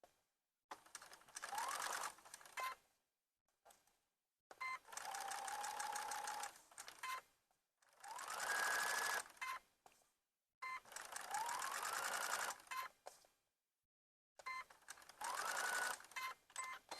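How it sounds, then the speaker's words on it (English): A sewing machine attaches binding to a fabric Easter basket, whirring in five separate bursts of a few seconds each with short silences between, fairly quiet and close. "I'm just going to finish sewing this on right now"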